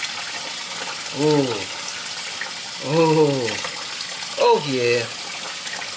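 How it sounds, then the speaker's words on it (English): Tap water runs steadily in the background while tie-dyed shorts are rinsed beneath it, a constant broadband wash heard under excited exclamations from a voice. "Now I'm going to take my rubber band off and finish rinsing it out."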